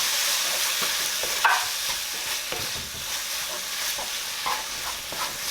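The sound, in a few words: stirring a mix with homegrown turmeric in a pan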